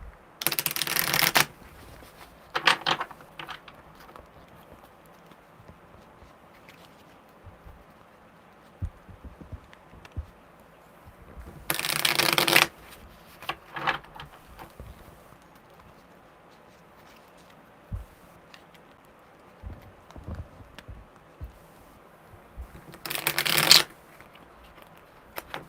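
Tarot cards being shuffled close by in three quick riffling bursts spaced apart, with soft handling clicks and quiet rustles between them.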